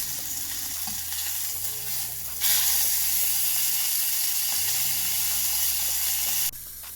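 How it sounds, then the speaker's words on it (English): A sirloin steak sizzles loudly in a pan after being flipped, a dense, constant hiss that swells abruptly partway through and holds strong until near the end, with no talking. "flip the steak and let it cook for a few more minutes"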